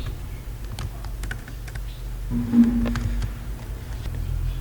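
Typing on a computer keyboard while a saved file is named: a quick, irregular run of light key clicks, close and clear, over a low steady hum, with no talking.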